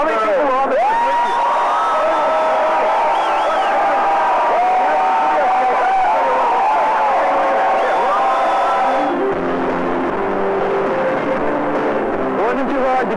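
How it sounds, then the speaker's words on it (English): A crowd cheers for Howard Stern at the Private Parts movie premiere, with dense shouting and whoops from many voices. The sound stays loud throughout and shifts in texture partway through. "Cheering for Howard."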